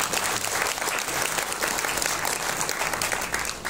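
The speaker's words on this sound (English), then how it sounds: "I'll give yourself a big round of applause." Continuous, fairly distant audience applause at a company dinner event, a dense even wash of clapping with no clear talk over it.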